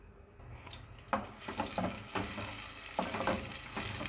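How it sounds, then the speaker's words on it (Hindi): Sliced medium onion frying in under half a cup of oil in a cooking pan, with a steady low sizzle and several sharp scraping stirs of a utensil against the pan. "इसमें डाल देंगे एक मीडियम साइज़ की प्याज स्लाइसेस में कटी हुई"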